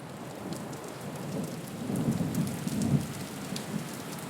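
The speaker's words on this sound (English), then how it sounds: "As soon as we reach the shore, there's a big thunderstorm." Heavy tropical rain pours steadily on an island shore while low thunder rolls and swells in the middle, a dense, moderately quiet wash with no voices.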